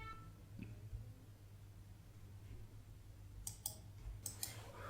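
A few sharp mouse clicks land near the end over a steady low background hum, with no speech.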